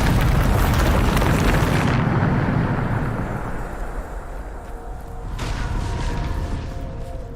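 Bombarda blasting spell in Hogwarts Legacy: a loud, sustained roaring explosion with crackling debris rolls for a couple of seconds, settles into a rumble, then a second burst of crumbling noise follows.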